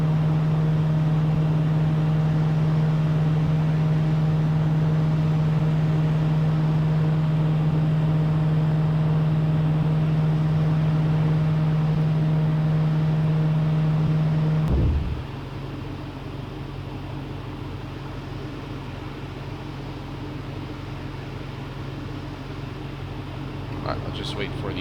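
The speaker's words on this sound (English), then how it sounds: "we are now waiting for the left engine to stabilize." Boeing 777-200 engine in X-Plane, a steady loud droning whine with a strong low tone that suddenly drops off midway and settles into a quieter broadband rumble.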